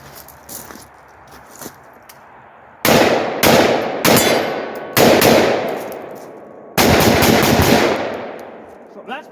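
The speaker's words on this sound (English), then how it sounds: "Okay, let's fire a few shots." Rifle fitted with a Blast Forward muzzle brake, firing 22lr/223 from a 13-inch barrel: a few faint shots, then a series of loud, close reports with ringing decay, spaced irregularly.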